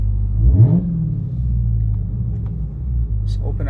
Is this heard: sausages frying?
no